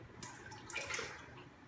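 Water spills over the rim of a cup and splashes into a larger container below, a brief, faint trickling gush that quickly fades.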